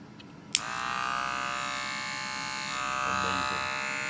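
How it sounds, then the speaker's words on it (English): Wahl Magic Clip cordless hair clipper, a Professional 5-Star Limited Edition black and gold model, switched on with a click and then humming as a steady, close electric buzz for several seconds with no talking. "Amazing. Wahl Magic Clip cordless."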